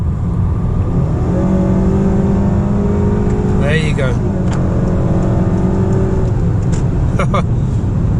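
Honda Accord Touring, a front-wheel-drive sedan, accelerating hard from inside the cabin, its engine note rising steadily in pitch over a continuous road and wind roar, with a brief spoken voice partway through.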